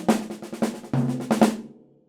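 A jazz drum triplet pattern moves from doubles into singles, a quick run of crisp close strokes with a ringing drum tone, then decaying into silence.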